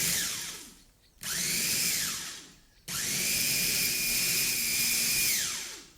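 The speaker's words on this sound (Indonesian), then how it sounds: "Kemudian ini lanjut kita proses sampai halus dan tercampur rata." Food processor grinding a savory snack mixture with ground pepper, a loud motor whine that rises and dips through three runs separated by short pauses.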